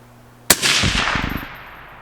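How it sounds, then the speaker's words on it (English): A single unsuppressed 22 ARC rifle shot cracks sharply at close range outdoors, then a rumbling echo rolls and decays over about a second. "This gun actually seems to shoot way better unsuppressed"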